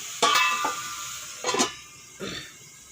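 Spice paste goes into a pan for Malabar spinach cooked with fish heads, making three short bursts of sizzling and scraping separated by quieter gaps.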